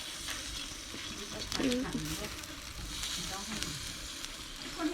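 Fish roasting in a pan sizzles and crackles steadily, with occasional stirring scrapes, close and moderately loud throughout.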